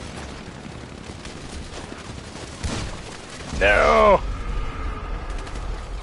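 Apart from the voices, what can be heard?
gunfire in a video game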